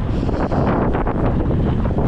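Loud, constant wind buffeting the microphone, a dense roaring rumble with no voices heard.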